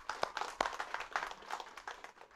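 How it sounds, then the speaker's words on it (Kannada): Scattered audience clapping at a Kannada stage play performance, a few sharp distinct claps followed by thinner irregular ones, fairly quiet and sparse rather than a full ovation. "ಪ್ಲೀಸ್ ಚಪ್ಪಾಳೆ ಹೊಡಿ."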